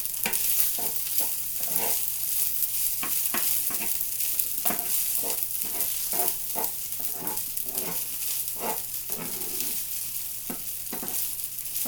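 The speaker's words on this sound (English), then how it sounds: "This is sizzling away." Chicken with frozen garlic, frozen ginger and onion sizzles in a pan with a steady hiss, while repeated stirring scrapes and knocks sound every second or so, close up with no talking.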